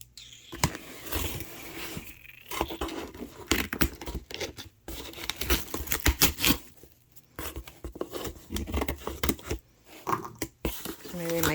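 Packing tape is torn and cut on a cardboard shoe box with small children's scissors, giving ragged ripping and snipping bursts up close, separated by brief pauses, with a voice speaking at moments.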